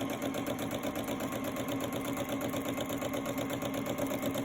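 A sewing machine runs steadily during free motion quilting, its needle stitching in a fast, even mechanical rhythm that stays close and constant throughout with no talking.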